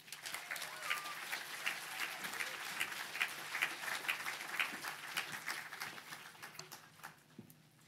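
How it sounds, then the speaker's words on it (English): Applause from the audience at the KPMG Children's Books Ireland Awards 2023 ceremony in Dublin, a steady wash of clapping across the hall that holds for several seconds and then thins out toward the end. "Give her a big round of applause"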